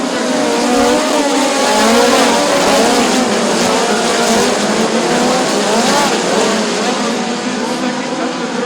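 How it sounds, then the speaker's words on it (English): POWRi National Midget League race cars, including a Toyota-powered Power Spike chassis car, roar around Bubba Raceway Park in a loud, continuous pack with shifting engine pitch, while an announcer talks over the noise. "Taking the early advantage is the Toyota Power Spike chassis car number 25 of Kevin Thomas Jr."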